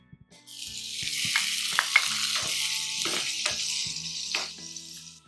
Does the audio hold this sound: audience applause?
no